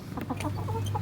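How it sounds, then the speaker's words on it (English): An agitated hen clucks in a suburban backyard flock, a run of short, harsh clucks close by over a steady low hum, with no talking. "That was angry chicken."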